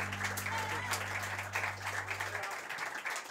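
Live concert audience applauding as guitarist Sebastián Rey is welcomed on stage, dense clapping over a low sustained chord that cuts out partway, with faint cheering.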